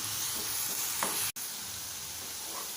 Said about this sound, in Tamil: நல்லா அந்த பச்சை வாசம் போகிற மாதிரி நல்லா வதக்கணும்